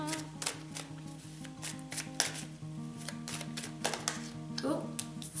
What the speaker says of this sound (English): Let's shuffle up the cards here and see what we have.